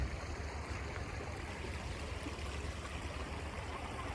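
Water falls down the mountain at Nakhal Hot Spring in Oman as a steady, dense rush of noise that continues without a break, with no voices over it.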